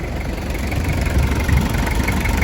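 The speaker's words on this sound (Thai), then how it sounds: "เครื่องยนต์ดีมากนิ่งมากครับ" The engine of a 2004 van idles smoothly up close, a steady, even low rumble with no talking.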